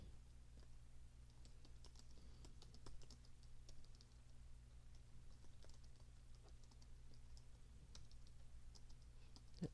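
Soft clicks of a computer keyboard as a chart title is typed in Excel, scattered keystrokes pattering faintly over a low steady hum.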